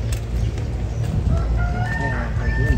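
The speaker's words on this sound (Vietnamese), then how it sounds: "Cái gà bữa nay nó tập trung vô đây dữ vậy ta." Farmyard chickens and a rooster, a busy flock clucking steadily while a cock crows in rising, drawn-out calls near the end, loud and close with no talk.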